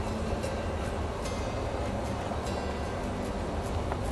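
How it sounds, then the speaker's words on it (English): A train passing near an outdoor spot where a car is being wet sanded and buffed, a loud continuous rumble and roar filling the whole stretch with faint metallic squeals. "If you can hear me over the train."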